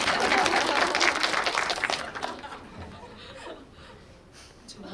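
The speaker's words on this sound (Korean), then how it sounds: "박수." An audience at a film talk event in Jeonju bursts into applause mixed with chuckles and laughter. The clapping is loud and dense for about two seconds, then thins out and fades into quieter room noise.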